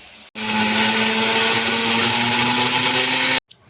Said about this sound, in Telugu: అంతవరకు మనం మిక్సీ వేసేసుకుందాం మసాలాలు